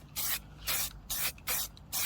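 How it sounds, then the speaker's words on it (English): Spray can of primer hissing onto a motorcycle frame in five short bursts of roughly a third of a second each, separated by brief pauses, close and clear with no talking. "I'm going to give it a coat of primer to stop it from flash rusting again."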